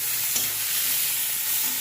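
Onion, garlic and dried chilli paste fry in hot oil in a pan, giving a loud, dense, unbroken hiss of sizzling close by, with no voices.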